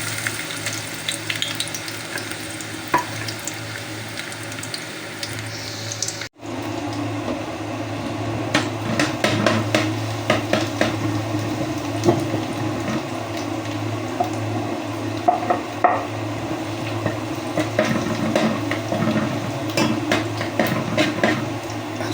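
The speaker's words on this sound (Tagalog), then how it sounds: "Umpisa na po natin ang ating pagigisa. Lagay na po natin ating bawang." Garlic sautés in a pan for adobong talong, a quieter hum at first, then after a brief gap a steady close sizzle with wet squishing and stirring sounds.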